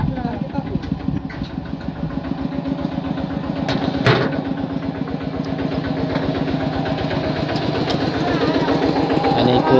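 Tractor engine running steadily outdoors on a farm, a loud continuous chugging drone with a fast regular beat, close by, with a brief rattling burst midway and voices faintly mixed in.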